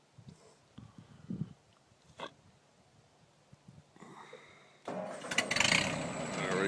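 An old Ford 8N tractor that tends to need choke cranks with soft intermittent sputters and knocks, then catches and roars into a loud, rough running idle near the end, with a voice heard briefly early on.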